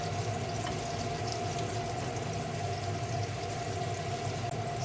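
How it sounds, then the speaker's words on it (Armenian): Chopped onions fry in a pan for a beef and potato stew, giving a steady, even sizzle that carries on unbroken at moderate loudness, with no voices. "Մի հատ խառնում եմ և թողնում եմ, որ սոխը մի փոքր տապակվի"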